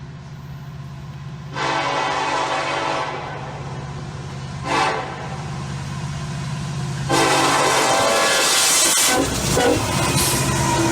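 A freight train led by a UPS D70 Ace with a CN ET44AC sounds its K5LLA horn: loud, sustained chime blasts over a low rumble of locomotives and rolling cars, with a short break and a final long blast.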